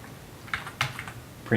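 Several quick keystrokes on a computer keyboard while writing a print statement in code, clicking in short bursts at close range with a faint room hiss between presses.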